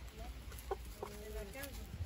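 Chickens cluck and murmur softly at a distance, a few short calls scattered over a quiet farmyard background.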